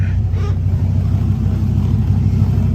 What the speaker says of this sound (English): I'm just going to take you around and have you listen to the engine idling